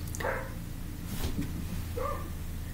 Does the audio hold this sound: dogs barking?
yes